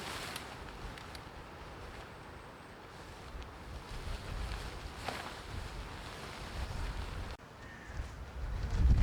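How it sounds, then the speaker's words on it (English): Strong gale blowing outdoors on a blustery winter day at a campsite, a steady rushing roar with low-frequency buffeting against the microphone that swells in gusts toward the end, no voices. "it isn't the best day to put this up because it's blowing a gale"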